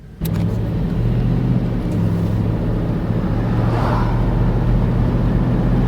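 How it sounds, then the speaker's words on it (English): A Hummer H2 drives around the block, heard from inside the cabin as a steady, loud low engine rumble and road drone that starts abruptly and holds constant throughout. "we're gonna go for a quick drive around the block"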